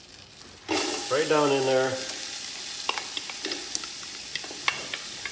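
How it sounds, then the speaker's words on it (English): A half cup of onions hits melted fat in a hot pan with a sudden loud sizzle that settles into a steady frying hiss with small pops, while a person briefly speaks over it. "I'm gonna add a half a cup of onions."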